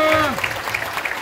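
Applause breaks out for a woman named Clara at a small live singing event, a short burst of clapping starting alongside a voice that trails off, with a sustained tone fading early.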